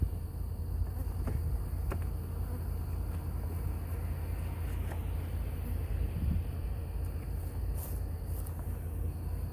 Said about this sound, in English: I'm going to open up this middle plug and let those bees get back to the queen.